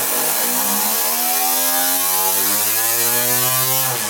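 A two-cylinder Lego air-powered engine fed by a 3D-printed air splitter with a metal axle on just under 50 psi of compressed air, a loud buzzing rattle that quickly spins up in pitch and holds, close by with no speech.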